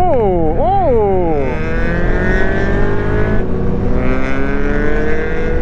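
A 2019 KTM 1290 GT motorcycle with an Akrapovic exhaust, parked, revs sharply once near the start, then settles into a steady, loud, close idle burble that runs the whole way.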